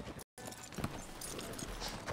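Horse hooves clip-clopping in Red Dead Redemption 2, a soft run of hoof knocks under a low ambient bed, fairly close and moderately quiet.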